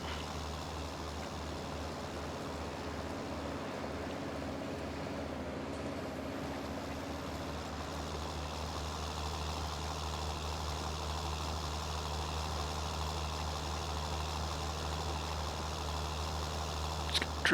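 Tractor engine in Farming Simulator 19 drones steadily at a loud, low idle-like rumble throughout, a constant heavy mechanical hum with no talk over it.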